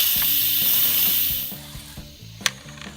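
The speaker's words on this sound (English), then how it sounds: "now it's time to let the pressure out of the pot" Manual steam release from a pressure cooker making Philly cheesesteak filling: a loud, steady hiss that fades after about a second and a half, followed by faint clicks and a sharp tap.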